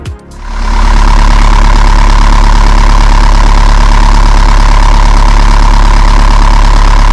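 A loud, faulty engine starts up and settles into a steady, close idle with a rough, knocking rumble that continues throughout.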